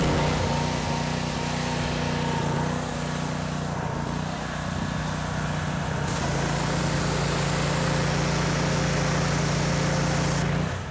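Gas engine of a roughly 3,000 PSI pressure washer running steadily close by, a loud buzzing drone whose pitch and load shift slightly partway through as the pressure changes.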